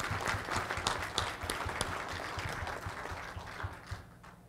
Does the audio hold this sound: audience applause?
yes